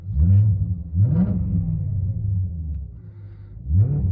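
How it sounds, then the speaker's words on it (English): A deep, rumbling BMW E39 V8 engine revs three times in quick blips, each rising and falling back to a loud, throaty idle between them. "I'll give a couple revs before I go."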